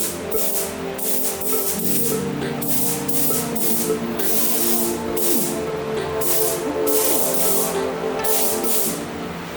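A Harbor Freight spray gun lays pearl paint onto a Nissan 240SX engine bay, giving a steady, loud airy hiss that runs unbroken with a droning tonal hum underneath.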